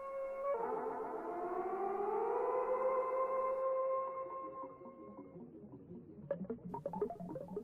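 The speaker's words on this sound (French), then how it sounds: "Les films de science-fiction utilisaient aussi des musiques contemporaines à base de sons électroniques afin de nous plonger dans une atmosphère futuriste" Futuristic electronic score from the 1956 science-fiction film Forbidden Planet, with sustained wavering siren-like tones that swoop and hold, then dissolve into scattered pulsing blips, fairly quiet and without speech.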